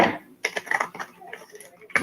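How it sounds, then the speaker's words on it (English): Tarot cards are shuffled in short papery bursts of riffling and tapping, close and fairly quiet, with a brief pause in the middle. "Let's shuffle one more time."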